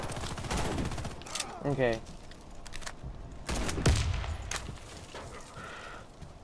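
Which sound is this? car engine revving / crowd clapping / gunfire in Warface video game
gunfire in Warface video game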